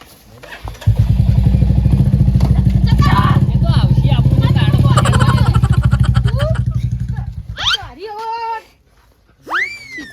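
A motorcycle engine runs steadily with a low throbbing rumble under people talking, then cuts off near the end as voices continue.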